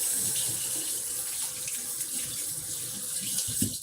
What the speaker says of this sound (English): I gotta wash my hands again.